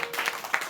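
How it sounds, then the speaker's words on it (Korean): A church youth group at a Sunday service claps briefly for a member, a short burst of a few scattered, uneven handclaps in a room. "박수 한번 쳐주세요"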